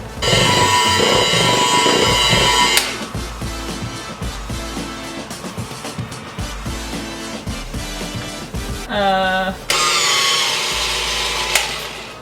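An electric mixer whirs through cake batter, a steady motorized drone that stops and restarts in several stretches, fairly loud and close with no talk over it.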